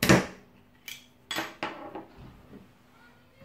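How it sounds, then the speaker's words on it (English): A bottle of Dithmarscher Urtyp beer from Marne, Schleswig-Holstein, is opened with a few close glassy and metallic clinks and clacks, the first one loudest, followed by softer taps and a quiet tail. "and let's open this one up"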